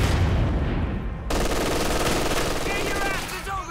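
Gunfire from an MG machine gun in the Company of Heroes strategy game, set on the Nordwind map in a 4v4 match, crackles steadily across the whole stretch and stays loud, with voices speaking over part of it.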